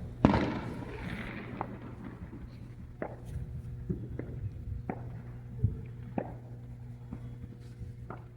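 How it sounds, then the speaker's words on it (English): Fourth of July fireworks going off at a distance: a sharp pop followed by scattered faint bangs and crackles at irregular intervals over a steady low background hum. "Fireworks are still happening."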